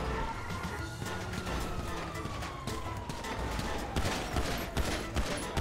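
Rapid gunfire rattles at a police van in GTA 5, dense overlapping shots and impacts with clatter of breaking glass, loud and continuous throughout.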